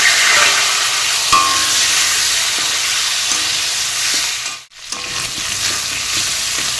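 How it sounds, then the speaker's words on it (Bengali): Sliced potatoes frying in a wok, in oil just used to fry fish, for a jackfruit and shrimp curry. A steady, loud, close sizzle runs throughout, with a scraping stir early on and a brief dip in the sizzle near the end. "মাছ ভাজা তুলে নিয়ে সেই কড়াইতে"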